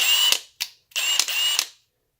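A Milwaukee M18 Gen-2 brushless mid-torque 1/2-inch impact wrench runs at low speed in several short whirring bursts with sharp clicks, close and clear with no talking.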